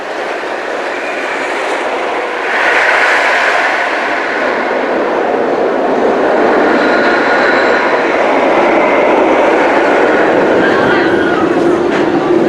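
Roller coaster at Six Flags St. Louis running on its track, a continuous loud rushing roar and rumble that swells after a few seconds, with crowd voices mixed in.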